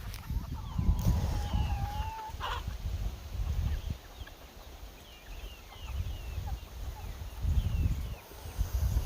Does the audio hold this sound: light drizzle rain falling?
no